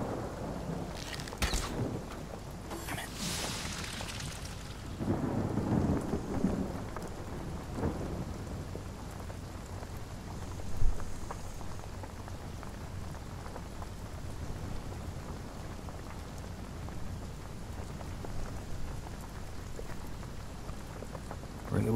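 Rain and rolling thunder from a rain spell cast in the fantasy role-playing game Divinity: Original Sin, with steady downpour, a few thunder cracks early on and a sharper rumble midway, running alone without talk.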